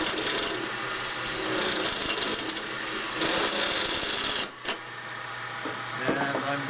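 A wood lathe turns a piece of wood as a tool scrapes its top round, a rough continuous scraping and rasping that drops away sharply near the end while the spinning lathe hums on at a lower level.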